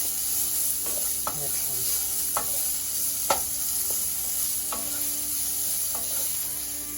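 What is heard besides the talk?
stir-frying on high flame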